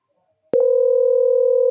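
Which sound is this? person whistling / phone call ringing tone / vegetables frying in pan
phone call ringing tone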